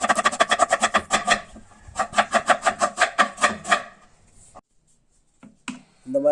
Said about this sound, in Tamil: நீங்கள் வந்து வெங்காயத்தை எடுத்து இது போல் கட் பண்ணிக்கலாம் ஃபைனாக